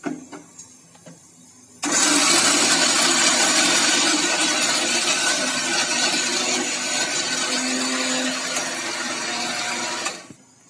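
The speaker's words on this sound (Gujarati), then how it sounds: "મિક્સરની અંદર સરસ રીતે આપણે તેનો લોટ તૈયાર કરી લઈશું મિત્રો, એટલે કે દળી લઈશું" A kitchen mixer grinder powders cooled churma into flour for barfi, starting abruptly and running as a steady, loud motorised whir for about eight seconds before cutting off, with a softer rattle before it starts.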